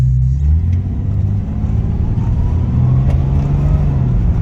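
A Ford XH Falcon engine accelerating up through the gears, with a loud, close rumbling drone that climbs in pitch, drops at a gear change, then rises again under steady road noise.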